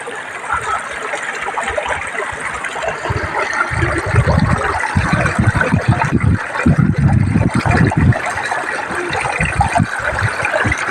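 Clear stream water flowing steadily at a free bathing spot in Santa Ines, Rizal, a continuous trickling and rushing that swells slightly midway, close and alone with no voices.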